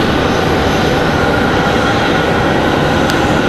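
Loud, broad roar of an American Airlines Airbus A321 jet departing Raleigh-Durham airport, heard steady and close, with no voices.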